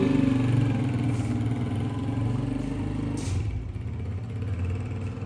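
A motorcycle engine runs steadily nearby, a loud low drone with a rattling edge that eases slightly toward the end.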